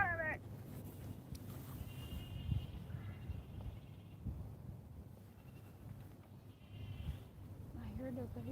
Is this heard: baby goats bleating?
yes